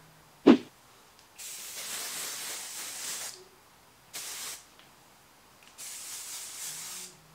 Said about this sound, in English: So I am going to use Joico's thermal protecting spray and we're gonna spray it all over.